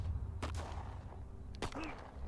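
Gunfire in a WW2-themed tactical RPG video game, two sharp shot bursts about a second apart over a low background, fairly faint.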